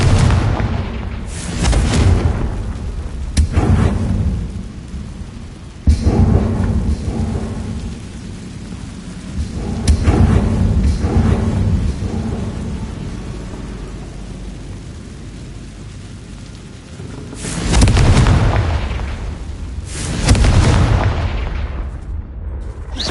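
Confringo and Bombarda spell explosions in Hogwarts Legacy, a series of loud, deep rumbling booms that swell and fade in several bursts across the span, with no talk.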